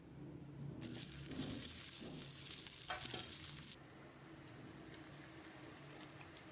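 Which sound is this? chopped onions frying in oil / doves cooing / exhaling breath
chopped onions frying in oil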